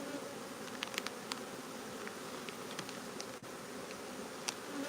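Honey bees in a cell builder hive, nurse bees among them, make a steady close buzz. It runs throughout the clip, with brief sharper wingbeat passes as single bees fly near.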